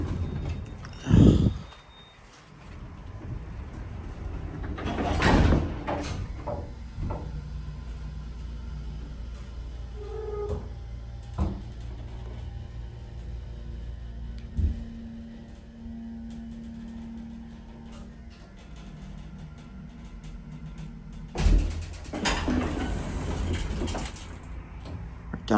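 A vintage 1967 ESCO hydraulic elevator at Gulfway Plaza in Houston running with a low steady hum, broken by door clunks and a few beeps, with someone talking now and then.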